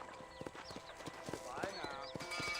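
Horse approaching in Red Dead Redemption: steady clip-clop of hooves drawing nearer with a whinny partway through, heard under voices and background game sound.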